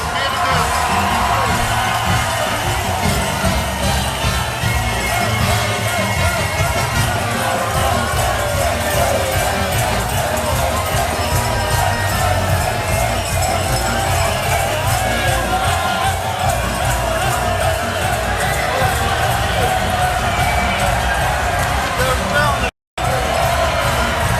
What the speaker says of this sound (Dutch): En ontvang ze met een daverend Gelijns applaus.